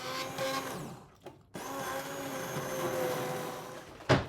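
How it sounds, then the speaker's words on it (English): A stick blender whirs in bursts through soup, stopping briefly and restarting, with a steady motor drone and a sharp clatter near the end. "I'm going to use my stick blender"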